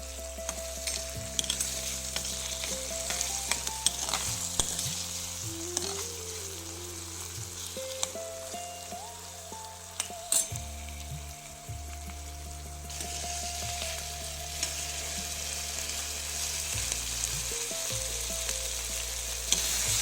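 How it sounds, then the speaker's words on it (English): Chopped tomato and shredded cabbage sizzle steadily in a pan for a traditional cabbage sabji while a spoon stirs and scrapes now and then; a low, tonal background hum runs underneath. "Now add the chopped tomato, mix it, and let it fry."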